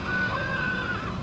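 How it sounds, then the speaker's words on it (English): A cartoon horse gives a short, shrill neigh lasting about a second, loud and close over a busy background. "The horse sounds."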